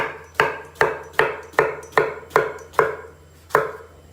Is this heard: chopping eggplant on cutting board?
yes